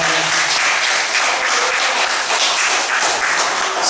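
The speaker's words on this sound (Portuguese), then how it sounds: "As palmas são para Jesus." A church congregation claps together in a steady, loud, dense round of applause that fills the whole stretch without any talk over it.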